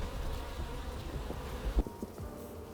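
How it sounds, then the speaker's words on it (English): Bees buzz continuously around a hive, a soft steady insect hum close by, with a few faint knocks and bumps near the end and no speech. "But he's too heavy for that bee to pick him up"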